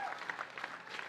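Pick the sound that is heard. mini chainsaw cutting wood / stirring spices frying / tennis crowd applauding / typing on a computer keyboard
tennis crowd applauding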